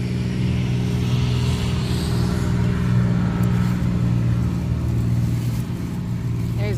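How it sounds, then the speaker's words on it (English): A tractor's heavy engine drones steadily nearby with a low, humming rumble as it slowly passes a pumpkin garden; a faint voice can be heard briefly. "Got a tractor going by."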